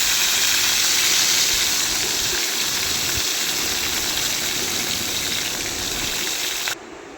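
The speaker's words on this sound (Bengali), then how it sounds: "আমি ওই তেলে দেখো সর্ষে কালো জিরে ফোড়ন দিয়ে দিয়েছি" Mustard seeds and black cumin temper in hot oil as the pan fills with a loud, dense, steady sizzle and hiss close by. The sizzle drops sharply in level just before the end.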